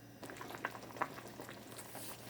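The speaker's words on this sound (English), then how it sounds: "you can see the potatoes are already bubbling, simmering" Potatoes simmer in a pot of boiling water, a soft continuous bubbling with a few brief louder pops, quiet and close with no voices.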